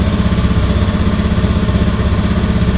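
An automatic scooter that has had trouble starting and keeps stalling runs at idle after being started, giving a loud, close, steady pulsing engine putter with even firing beats and no talking.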